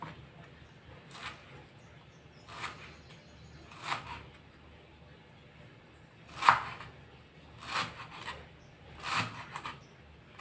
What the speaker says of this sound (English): And we cut it into small pieces.